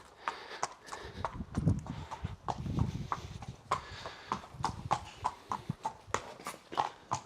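Shod racehorse due for reshoeing walking over hard ground, a clear, close clip-clop of hooves in an uneven four-beat rhythm, each strike crisp and distinct with faint background murmur.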